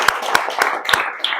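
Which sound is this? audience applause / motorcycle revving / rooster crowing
audience applause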